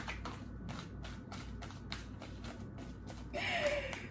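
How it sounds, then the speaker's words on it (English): Tarot cards riffle and slap together in a steady, rapid rhythm close up, with a brief brighter swishing flourish near the end. "We're gonna shuffle again."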